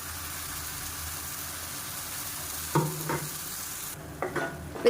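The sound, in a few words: sautéing ginger garlic onion paste in a pan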